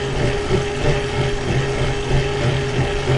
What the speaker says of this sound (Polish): może będzie teraz słychać, jakie śmieszne odgłosy wydaje ten trenażer, jak się jedzie po szutrze